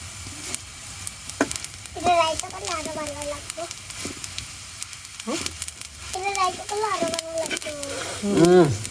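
Dried jute leaves fry in a pan while being tossed and stirred, making a steady close sizzle with scraping strokes, and a person talks intermittently over the cooking.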